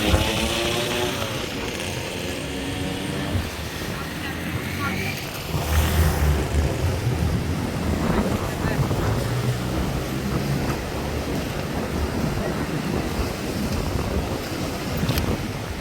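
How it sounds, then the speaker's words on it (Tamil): Strong wind buffets the microphone while rough, churning sea waves crash along the coast at Point Pedro, a constant loud roar with a voice talking over it. "கடல் பாருங்க வந்து கொந்தளிப்பாக தான் இருக்குது"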